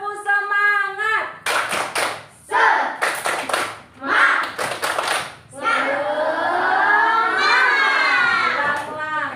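A group, likely a class, performs the Indonesian 'tepuk semangat' ice-breaker, with bursts of rhythmic patterned hand-clapping alternating with loud chanted voices from the participants.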